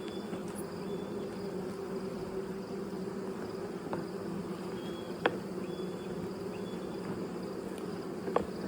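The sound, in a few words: honeybees buzzing on hive frames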